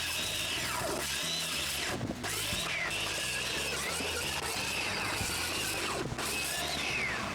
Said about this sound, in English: I can cut them to the same length.